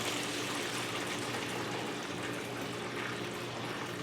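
Kombucha tea with fruit pours steadily in a close, continuous liquid stream, an even splashing flow lasting the whole moment with no voices.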